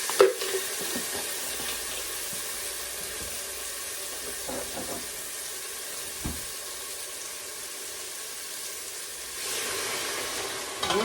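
Garlic sautés in a pan with a continuous, close frying sizzle, broken by a few stirring clanks and scrapes; the hiss swells slightly near the end, with no talking.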